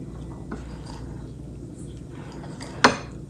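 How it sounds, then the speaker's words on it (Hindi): A spoon or whisk mixing vanilla cake batter in a bowl, with quiet scraping and soft knocks against the bowl, then one sharp clink of utensil on the rim near the end. "सिर्फ इसको मिक्स करना है।"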